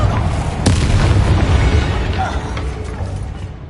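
A fiery blasting spell goes off in the Hogwarts Legacy video game, a dense low boom at the start followed by a sharp burst and a long rumbling tail over continuous combat noise.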